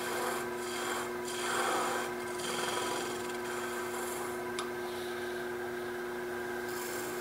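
Sandpaper rubs against the stem of a wooden goblet spinning on a lathe, a steady close rasping scrape over the constant hum of the machine, with a few brief swells and one sharp tick.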